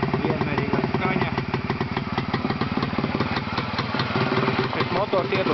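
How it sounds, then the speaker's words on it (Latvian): A motorcycle engine that was just started idles steadily and loudly up close, its exhaust routed with bends from a 360 model, while people talk over the running motor. "Šis motors iet uz pārdošanu, tikko iedarbināja, pat kūk vēl."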